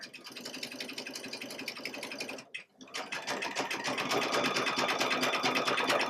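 A Baby Lock sewing machine with a fringe/looping foot stitches in a fast, steady run, breaking off for a moment before resuming and continuing to the end, close and loud.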